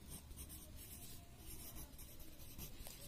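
Pen or chalk writing during an English lesson, a steady continuous scratching and rubbing of the writing implement for about three seconds, faint and close, with no talking.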